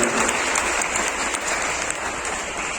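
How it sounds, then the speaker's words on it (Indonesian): A congregation in a church in Surabaya claps for a children's choir during a children's mission Mass, a dense, even round of applause from many hands filling the room, continuous for the whole stretch. "Kita beri aplaus."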